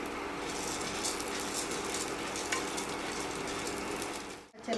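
Chana dal frying in oil in a pan gives a steady, dense sizzle, close and even, cut off by a brief dropout near the end with no talking.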